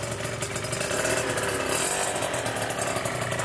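A Malaguti scooter engine runs loud and close with a raspy, buzzing two-stroke drone through its exhaust, holding a steady high pitch that swells slightly midway, with no voices over it.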